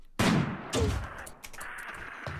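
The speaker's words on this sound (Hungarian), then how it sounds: "Másik lövés" A gunshot in the video game RimWorld: a loud sharp blast followed quickly by a second shot, each with a noisy rumbling tail, close and alone without talk.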